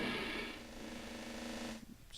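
An orchestral timpani in a boss-theme composition sounds one strong hit that runs straight into a sustained roll, a dense booming rumble that holds and then cuts off near the end, alone without talk.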